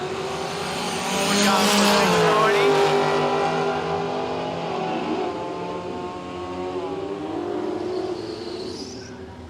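A Gemini drag race car spools up and launches at a drag strip event, its engine climbing in pitch with rising revs and then fading, while an announcer talks over it.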